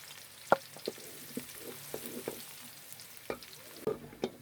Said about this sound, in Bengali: একটু ভেজে নিব আমরা। তার মধ্যে দিয়েছি পেঁয়াজ, কাটা